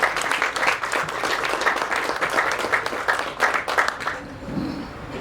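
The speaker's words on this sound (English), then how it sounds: "Let's give her a applause." A panel discussion audience claps for a speaker, a full round of applause from many people that carries on steadily before thinning out near the end.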